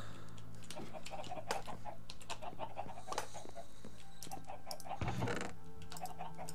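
Chickens cluck repeatedly in a coop in the Minecraft video game, short game-style clucks over a steady background with keyboard typing clicks, plus a louder thump near the end.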